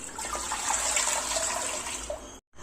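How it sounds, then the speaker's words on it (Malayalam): Water is poured steadily into a pot holding a block of ice, making a continuous splashing rush that stops abruptly near the end. "ഇനി ഇതിലേക്ക് നമുക്ക് നിറച്ച് വെള്ളം കൂടി ഒഴിച്ചു കൊടുക്കാം."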